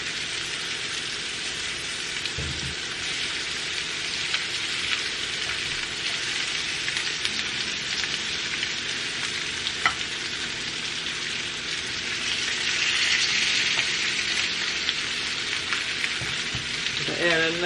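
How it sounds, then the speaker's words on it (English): Butter sizzles steadily in a hot pan alongside lamb chops being pan-seared, a dense crackling hiss that holds throughout and swells briefly louder near the end, with no one speaking. "I'm going to add some of this butter to the pan."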